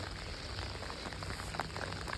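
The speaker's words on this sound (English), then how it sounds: "I can't film right now because it's raining so hard." Heavy rain pours down during a thunderstorm outdoors on a fishing trip, a dense, continuous hiss of drops pattering on surfaces, steady and close, with no voices.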